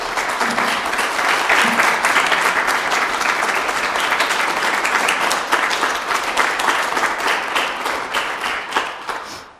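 An audience breaks into sustained applause to welcome speaker Beverly Roberts Gaventa at a lecture, many hands clapping steadily and loudly before gradually thinning and fading out at the end.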